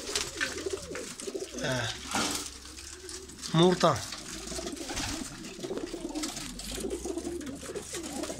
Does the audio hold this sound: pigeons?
yes